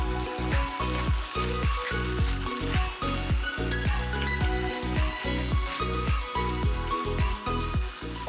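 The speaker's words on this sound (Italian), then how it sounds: "Facciamo saltare i cannellini per qualche minuto in padella e aggiungiamo sale e pepe" Cannellini beans sauté in a frying pan, crackling and sizzling steadily with a rhythmic pattern of repeated tossing or stirring bursts, close and fairly loud with no voices.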